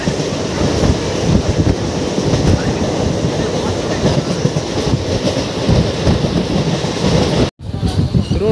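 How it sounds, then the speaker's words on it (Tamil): Crowded local commuter train on the Chennai–Tiruttani route rumbling along the rails, a loud steady roar with clattering wheels, briefly cut near the end. "ஒரு ஸ்டேஷனுக்கு ஒரு ட்ரெயின் லோக்கல் ட்ரெயின் வந்துகிட்டே இருக்குங்க"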